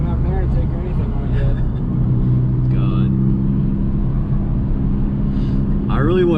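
Turbocharged engine of a 2019 Hyundai Veloster R-Spec with no aftermarket intake, a steady low rumble heard from inside the car as it pulls, with brief turbo whooshes and whistles over a constant drone.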